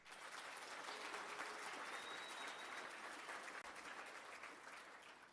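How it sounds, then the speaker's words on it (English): Sustained, dense round of audience applause for Dr. Mathe at a book launch event, steady and full throughout with no talking over it. "please join me in giving a thunderous round of applause to Dr. Mathe"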